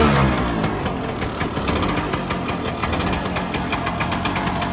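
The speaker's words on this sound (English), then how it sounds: "Sounds like a two-stroke to me." A 1989 Honda 250 CR two-stroke motorcycle engine runs loud and close, a steady buzzing idle with a rapid rattling pulse and slight revving throughout.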